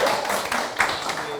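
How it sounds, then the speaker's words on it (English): An audience claps for a dancer in a short, dense burst of hand clapping, close and steady, briefly mixed with voices. "Let's clap for him."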